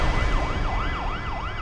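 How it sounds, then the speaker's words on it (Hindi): A wailing emergency siren sweeps up and down in a steady repeating cycle, loud and continuous with no voices, heard at night from a distance. "रात में सायरन की आवाज दूर से आ रही थी।"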